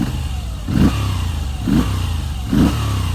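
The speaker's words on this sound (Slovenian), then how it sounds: "kad daš po gasu, motor ful lepo zamaja" A Moto Guzzi V7 Special motorcycle idles with a loud, close engine rumble and is blipped on the throttle three times, each rev rising sharply and dropping back, with no talk.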